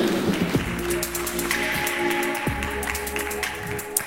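An audience applauds a guest speaker, Louis Vuitton heritage curator Aurélie Samuel, at a conference event: steady, dense clapping that holds for several seconds, with a faint tonal backing underneath and no voices.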